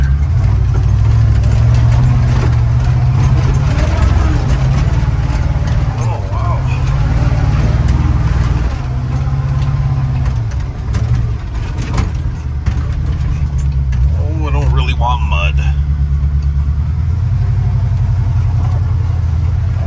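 A Chevy squarebody 4x4 short-bed pickup truck pushes into deep snow, its engine a loud, steady low rumble throughout, with someone talking over it.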